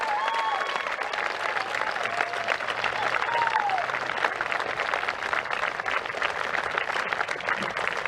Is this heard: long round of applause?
yes